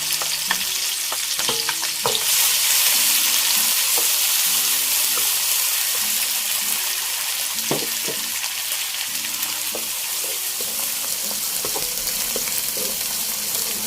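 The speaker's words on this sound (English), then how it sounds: "Using the same oil, we can stir fry the pounded ingredients." Pounded spice paste stir-fried in hot oil for Malaysian kampung fried rice, a loud continuous sizzle with repeated scraping and clanking of a spatula against the wok, no talk.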